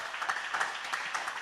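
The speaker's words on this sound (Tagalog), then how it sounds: "Palakpakan natin ng malakas na palakpak." A church congregation at a JMCIM preaching service applauds loudly, a dense, steady roar of clapping that holds throughout with small swells and no voices above it.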